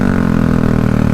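A Bajaj Dominar 400 motorcycle engine, heard close and loud, holding a steady, throaty mid-pitched drone with a constant rhythmic pulse throughout as it downshifts.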